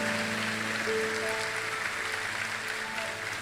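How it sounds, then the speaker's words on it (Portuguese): Applause from a church youth audience for a young man, a steady wash of clapping at moderate volume, fairly distant, with a faint tonal background underneath. "Pode aplaudir esse jovem"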